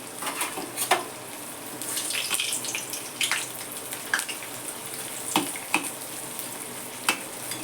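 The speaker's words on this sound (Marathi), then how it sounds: "चला तर आपण डिंक तळून घेऊ इकडे तेल तापलंय थोडा डिंक टाकून बघते तेल तापलंय" Pieces of edible gum (dink) fry in hot oil in a home kitchen, a soft continuous sizzle broken by sharp crackling bursts and occasional spoon clatter, with no talking.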